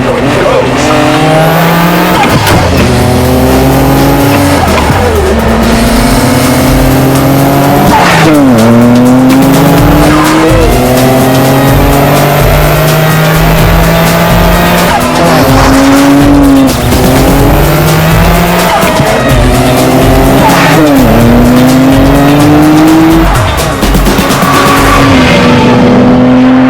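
A Nissan Skyline GT-R KPGC10 accelerates hard with a loud, close engine that climbs in pitch through gear after gear, each upshift dropping the note before it rises again, with a voice faintly beneath.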